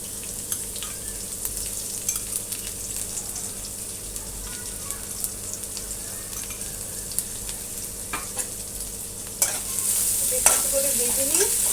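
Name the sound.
garlic frying in pan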